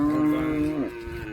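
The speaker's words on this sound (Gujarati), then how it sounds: "અને મારી ગાયો આગળ છે તો બતાવું તમને." A cow grazing in a green forest pasture at Balaram lets out one long, close, deep moo that slides down at the end, with soft outdoor background after it.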